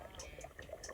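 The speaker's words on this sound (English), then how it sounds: "I like to pee in a hole" Outdoors, a man pees into a hole in the ground, making a faint, quiet trickling splash that runs continuously for about a second, with no talking.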